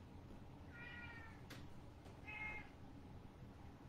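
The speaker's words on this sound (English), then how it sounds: "Look, a cat." A cat meows twice indoors, short and faint with a gap between calls, over a quiet room hum.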